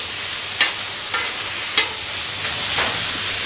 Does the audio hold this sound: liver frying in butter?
yes